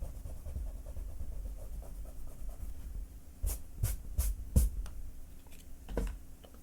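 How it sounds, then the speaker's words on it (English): Pencil eraser rubbing over a portrait sketch on paper, a quiet scratchy scraping that turns into several short, brisk back-and-forth strokes partway through, up close. "Erase this."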